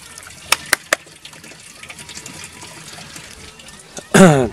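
An ordinary tap on a garden water line runs into a washbasin, a faint trickle and splash with a few sharp knocks, then a loud gush of water near the end.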